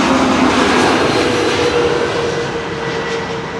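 A Transavia airliner arriving from Faro passes overhead on landing approach at Schiphol, its engines producing a loud, steady roar that slowly fades over a few seconds.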